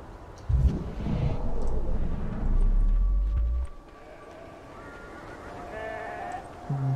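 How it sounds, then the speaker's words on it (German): Bleating sheep from Beyond: Two Souls come through a low rumbling ambience, with a few wavering calls near the end and a heavier thudding stretch partway through. "Schafe."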